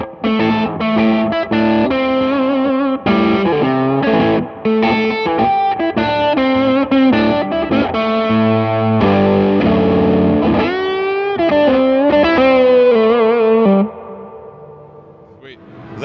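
An electric guitar runs through a JAM Pedals Tube Dreamer overdrive with a high gain stage at the NAMM 2019 show, giving loud, continuous distorted chords and riffs that fade out on a final ringing chord.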